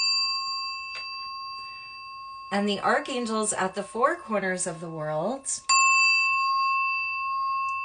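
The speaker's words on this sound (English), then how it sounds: "I'm going to ring the bell" A small bell is struck once and rings on with a sustained, steady tone, and is then struck again near the end, while someone speaks a spiritual invocation over the ringing during the middle.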